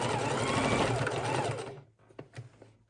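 Sewing machine stitches back and forth over the seams and corners of a fabric soup bowl, a steady close whirring run for most of the time that stops abruptly, followed by a few faint clicks and handling sounds.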